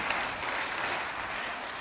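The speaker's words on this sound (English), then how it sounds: "A little applause for that." Applause from a church congregation during a Sunday worship service, a steady dense wash of many hands clapping, moderately loud and continuous with no talk over it.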